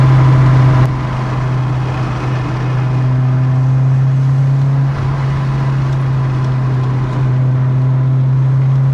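A car drives along with a steady, loud engine hum that holds through the whole stretch, swelling slightly at moments as it picks up speed.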